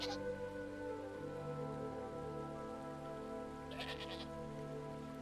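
Wild prehistoric sheep, mouflon, bleat in the Dawn of Man video game, a short cry early and another later, heard over a steady patter of rain and a low ambient drone.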